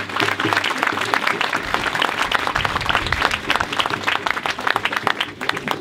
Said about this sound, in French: qu'on peut applaudir Albin d'Anvers